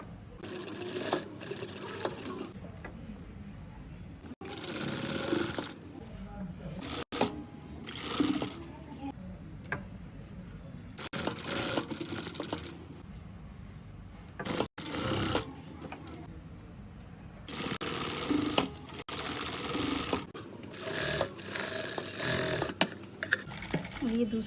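A sewing machine stitches fabric strips in repeated short bursts of rapid mechanical whirring, close by, separated by pauses, while a person talks between and over the runs.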